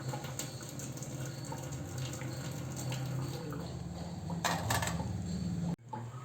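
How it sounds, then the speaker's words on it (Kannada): Hot water is poured off boiled cauliflower florets for gobi manchurian, a continuous close splashing stream that swells briefly near the end and then cuts off abruptly, with no voices. "ಬಿಸಿ ನೀರಿದೆಯಲ್ಲ ಇದು ಒಗೆದು ಬಿಡೋದು"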